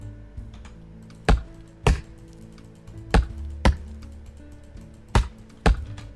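Computer keyboard typing heard as sparse, sharp key strikes, about eight distinct clacks spaced irregularly over a quiet background, close and alone.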